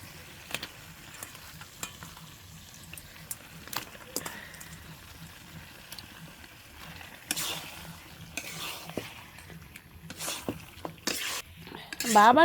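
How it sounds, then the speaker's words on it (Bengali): Chicken meat goes into fried spice paste in a pot over a village clay stove, stirred with scraping clinks and intermittent bursts of sizzling, close by and moderately loud, rising toward the end. "এখন যে মুরগির মাংসটা দিয়ে দেবো"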